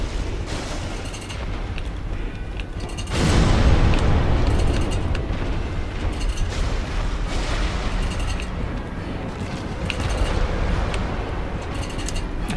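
Explosion followed by a heavy slam and delayed shockwave during a Dark Souls boss fight, a loud booming burst that sets off a dense, rumbling roar sustained throughout, with game sound effects layered over it.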